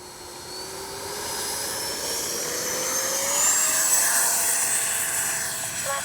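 A Freewing T-33 80mm electric ducted-fan RC jet running a 5900 pack, its turbine whine rising steadily in pitch and loudness during takeoff, close and continuous.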